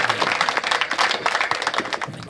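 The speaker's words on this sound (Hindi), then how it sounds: "भाई सुमित ओरछा से एक बार आपकी तालियां मिले" Dense, continuous clapping from a crowd at a Hindi poetry recital, a steady wash of applause with no voices standing out.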